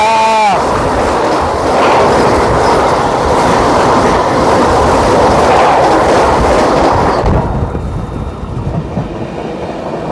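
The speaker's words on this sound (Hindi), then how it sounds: "22415 वाराणसी नई दिल्ली वंदे भारत एक्सप्रेस।" The Varanasi–New Delhi Vande Bharat Express roars past at close range, a loud sustained rush with rhythmic wheel clatter that cuts off sharply near the end, leaving quieter ambient noise.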